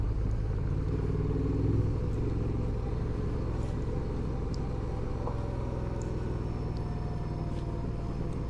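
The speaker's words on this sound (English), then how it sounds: "Well, I know the engine brake's working. I can hear it." A Honda Transalp motorcycle engine brakes steadily on a gravel road, a low, even droning rumble with faint clatter from the surface throughout.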